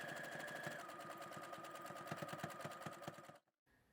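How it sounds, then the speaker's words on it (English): A sewing machine stitching fabric cuff strips into rings, a steady close mechanical whir with rapid rhythmic needle clatter that stops abruptly near the end. "you're going to sew down the side to make 2 complete rings"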